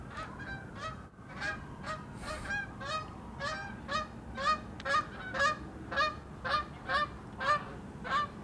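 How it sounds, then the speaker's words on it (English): A flock of geese honking repeatedly in a steady run of loud, nearby calls over a low background rumble, with no voices. "Yes, those are geese."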